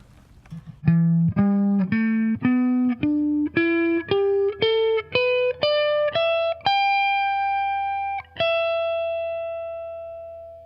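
An electric guitar plays a rising minor pentatonic scale, one note at a time in even steps, ending on a sustained note that rings out and fades.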